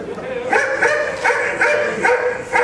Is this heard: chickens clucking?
no